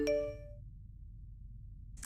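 A single short chime of a text message alert on a phone, a bright ringing tone with clear harmonics that fades within about half a second, followed by quiet low background hum and a faint soft tap at the end.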